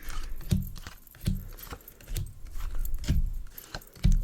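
Playing cards laid down one by one for a game of solitaire, soft distinct taps and light slaps at a steady, unhurried pace, close and quiet.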